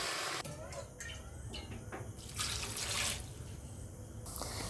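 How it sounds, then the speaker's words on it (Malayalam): Water streams and splashes into a pan of vegetables for Kerala aviyal in several short pours with brief pauses, close and fairly clear, with faint drips between. "എല്ലാ വെജിറ്റബിൾസ് ഇട്ടതിന് ശേഷം അതിലേക്ക് അല്പം വെള്ളം ഒഴിച്ച് കൊടുക്കുക."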